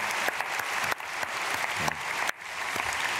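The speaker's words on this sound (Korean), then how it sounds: "박수하겠습니다" Church congregation at a dawn prayer service claps together in steady, dense applause, loud and close, with brief dips as the clapping swells again; no talking over it.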